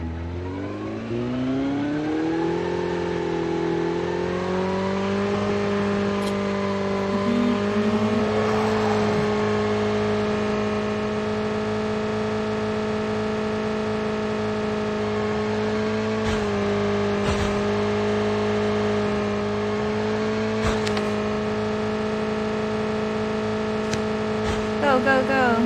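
Motorcycle engine in a video game revving up and holding a steady, rising-then-level drone with strong harmonics, loud and continuous throughout, with voices talking over it.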